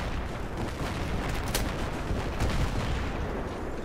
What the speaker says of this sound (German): Alter, hier explodiert alles.